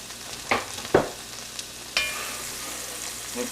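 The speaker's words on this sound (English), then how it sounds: "I'm going to add about a half a chopped up onion to the butter." Chopped onion hitting melted butter in a pan while making Brunswick stew, giving a steady close sizzle with a few sharp clatters and stirring scrapes.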